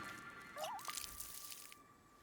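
Watering plants in the cozy tea-garden game Wanderstop: soft, close drips and a small squishy splash of poured water over a faint steady hum, with no talking.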